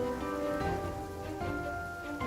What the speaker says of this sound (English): Oh yeah, the rain helps a lot.